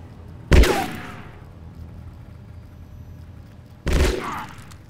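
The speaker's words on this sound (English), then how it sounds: "You can shoot him now if you like." Two loud gunshots in the Shadowrun Chronicles video game, about three seconds apart, each a sharp blast with a ringing decay, over a low steady background hum.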